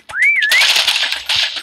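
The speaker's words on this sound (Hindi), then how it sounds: "सीटी बजी, सीटी बजी," A short rising-and-falling whistle tone sounds in a video game, followed by a burst of clattering game sound effects, loud and close.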